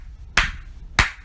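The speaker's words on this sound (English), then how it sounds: "Give her a round of applause." Two sharp, close hand claps about half a second apart, each a crisp single slap with quiet in between and no voices.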